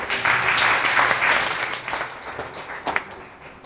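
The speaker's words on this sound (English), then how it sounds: "let's give them a round of applause" Audience applause at an awards ceremony, a burst of dense clapping that tapers off over a few seconds, with a few scattered claps at the end.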